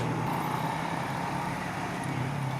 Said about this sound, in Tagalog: Intersection, traffic.